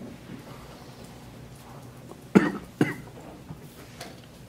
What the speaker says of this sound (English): we're all coughing today